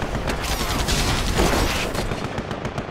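Rapid gunfire crackles in a tank battle in the AirMech video game, loud bursts of automatic shots close together with booming hits throughout.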